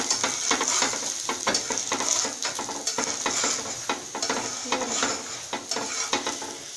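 A dal-stuffed paratha fries on a pan over a low flame, with a steady sizzle broken by repeated scraping and turning taps from a utensil, close and clear with no speech.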